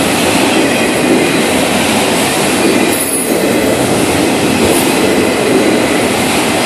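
Freight train with Southern Pacific and CP Rail cars rolling slowly past on railroad tracks, a loud, continuous close rumble of wheels and cars with high metallic wheel squeal throughout.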